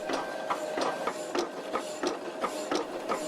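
Vintage hydraulic hacksaw cutting metal, its blade rasping in a steady back-and-forth rhythm of about three strokes per second, close and continuous.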